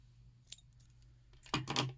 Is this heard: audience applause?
no